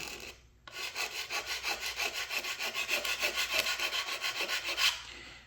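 Sandpaper works back and forth over a proud wooden frame on a Model Shipways dory model boat, making a close, steady rhythmic rasping of about twenty quick strokes with no talk.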